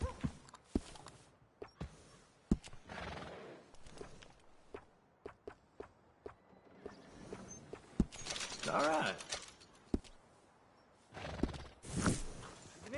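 Video game horse gives a whinny and clip-clops at a walk, with sharp hoof strikes spread through the scene and a louder neigh late on; a voice speaks briefly.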